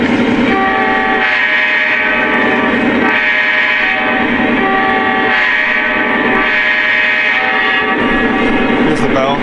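A Lionel Union Pacific SD70ACe model locomotive horn blows a grade crossing sequence of loud sustained blasts, rising and falling with short gaps, over steady rumbling engine noise.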